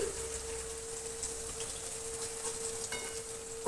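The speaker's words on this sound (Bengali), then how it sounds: "সবজিটাও আমি হালকা ব্রাউন কালার করে একটু ভেজে নেবো" Vegetables frying in oil in a kadai, browning lightly: a steady, close hiss and crackle runs throughout, with a faint hum underneath and no talking.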